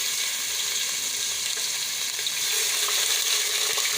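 Cumin and garlic fry in a pan with a steady, dense hiss of sizzling oil, continuous and close with no pauses.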